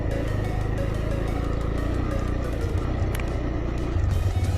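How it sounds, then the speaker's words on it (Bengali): A car rolls slowly on a chilly morning on a mountain road from Jomsom toward Muktinath in Nepal, its engine giving a low, steady rumble with faint road noise throughout. "এখন গাড়ির স্পিড বাড়াচ্ছি না, কারণ কোল্ড স্টার্টও দিইনি।"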